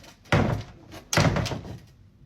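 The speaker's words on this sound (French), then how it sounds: "le bruit de la porte, c'est comme l'arme à feu" A house door slams twice, two sharp heavy thuds about a second apart, loud and close with a short rumbling decay, no talk.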